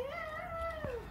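A young child imitates a cat with one drawn-out meow, close and clear, rising then slowly falling in pitch over about a second.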